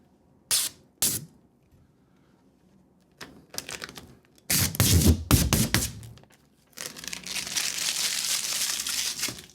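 Protective film is peeled off a Samsung Galaxy Tab case in a few short crackling rips, then a longer loud, sustained tearing crinkle close to the mic, with no talking.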